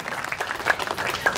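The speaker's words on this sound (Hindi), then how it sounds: "जोरदार तालियों के साथ आप स्वागत करें टीम" A festival crowd at Murthal Mahotsav gives loud applause welcoming the Jharkhand team, a brief, busy patter of clapping with a few sharper peaks.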